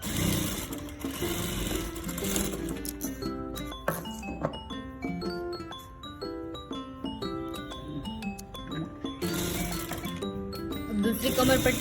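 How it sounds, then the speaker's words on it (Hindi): A sewing machine stitching a waistband strip onto a deep-neck princess blouse, its needle chattering steadily close by with light metallic clinks, while background music plays. "ऐसे पट्टी को स्ट्रेट रख के आपको यहाँ पे सिलाई लगानी है।"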